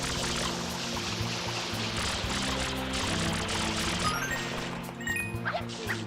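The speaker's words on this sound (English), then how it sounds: "Press the R button to shoot water." Water sprays from the FLUDD nozzle in Super Mario Sunshine, a continuous rushing pour over a low game hum, with short bright chimes and effects near the end and no talk.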